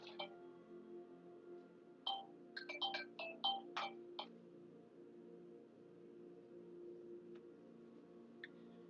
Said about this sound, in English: I'm getting a phone call, so excuse me one second.